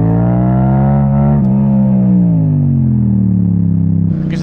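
Yamaha MT-07 motorcycle fitted with an Akrapovic exhaust, a loud, close, steady deep engine note that swells and dips through a rev change midway and settles back toward the end, with no talk.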